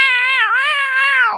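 A person imitates a cat with a long, drawn-out meow, loud and close, wavering in pitch before trailing off at the end.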